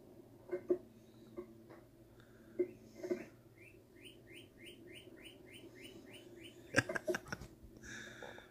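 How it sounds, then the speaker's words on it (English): Birds chirp from a TV indoors, a quiet scatter of separate tweets and a quick run of rising notes, with a few louder calls and sharper bursts between them. "watch the birds on the TV."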